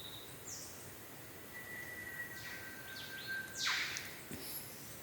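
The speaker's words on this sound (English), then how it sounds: "Just listening to the bird song." Faint, scattered bird chirps and sweeping whistles over a steady low background rumble, with no voices.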